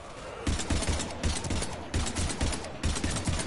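Bursts of gunfire in the sci-fi shooter Mass Effect 3, loud repeated volleys in a steady rhythm of short clustered shots, continuing throughout without any talk.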